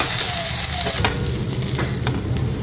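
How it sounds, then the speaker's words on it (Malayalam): Finely chopped ginger and garlic cloves sautéing in a pan for soya chunk piralan, a close, loud and continuous sizzle with quick spatula scrapes and stirring knocks, no speech. "ഇഞ്ചി ചെറുതായിട്ട് ചോപ്പ് ചെയ്തതും അതുപോലെ തന്നെ ഒരു 6 or 7 ഗാർലിക് ക്ലോവ്സ് വെളുത്തുള്ളി അല്ലി അരിഞ്ഞതൂടെ ചേർത്ത് വഴറ്റുക"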